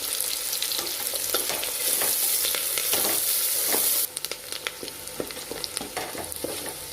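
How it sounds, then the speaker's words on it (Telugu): Sliced onions with a few curry leaves fry in hot oil for a boti curry, giving a steady, close sizzle broken by scraping stirs; the hiss is loudest for the first four seconds, then eases slightly. "ఇదిగోండి ఉల్లిగడ్డలు ఇలా వేగుతున్నాయి"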